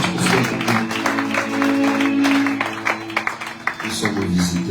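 Church congregation applauding and cheering loudly in praise, a dense wash of clapping and voices with music or singing sustained beneath throughout.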